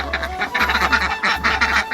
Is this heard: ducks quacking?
yes